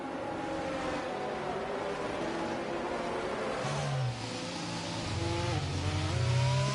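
Formula 1 cars in a PlayStation racing game build engine revs together at a green-flag restart on lap 11 at Abu Dhabi, a dense steady roar with rising harmonic whines that swell louder near the end.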